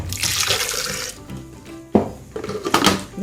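Water splashes as a glass of water is poured into a blender for about a second, followed by a few clinks and knocks of handled containers.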